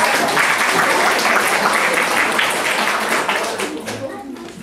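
An audience applauding at a children's literary contest award ceremony in Olsztyn, dense steady clapping from a crowd in a hall that slowly fades toward the end, with faint voices underneath.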